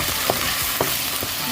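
Sardines fry in a pan with garlic and onion, giving a steady loud sizzle. Stirring scrapes and clatters break in about every half second.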